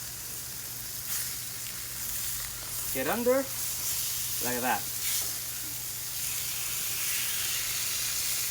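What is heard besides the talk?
food sizzling on a hot griddle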